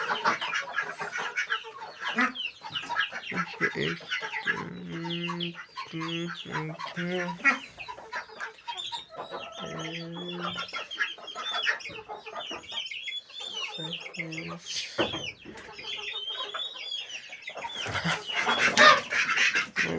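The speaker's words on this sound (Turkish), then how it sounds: "gaz sesi gelir" Repeated honking goose calls nearby, in uneven bursts amid farmyard bird chatter, with occasional soft voices in the background.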